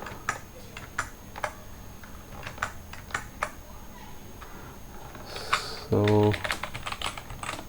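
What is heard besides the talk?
typing Python code on a computer keyboard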